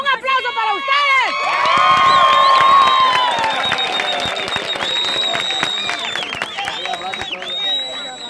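A large crowd cheers, whistles and applauds loudly for a Honduran migrant caravan, with high shouts and sustained clapping that carries on throughout.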